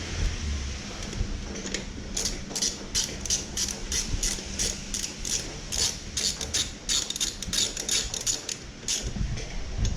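Brake caliper bolts being tightened on a Yamaha Vmax rear wheel, with a steady run of rapid ratcheting clicks up close over a continuous mechanical hum, and no talk.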